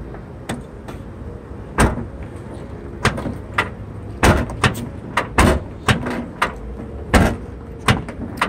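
Hotel room door in Tampa Bay, Florida, banging and clunking in a string of sharp knocks and latch rattles with no voices, some hits loud and close, others lighter, spread irregularly across the stretch.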